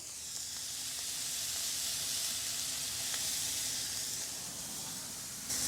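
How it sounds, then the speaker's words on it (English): Steady, loud sizzling of burger meat on tortillas frying meat side down on a hot griddle for smash tacos, a continuous crackling hiss with a few small pops, no voices. "Hear that sizzle?"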